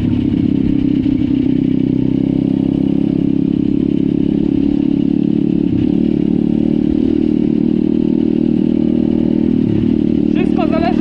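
A pit bike ridden at a steady, gentle pace while being broken in, its engine droning loud and constant at a fairly even speed with clattering and wind noise throughout.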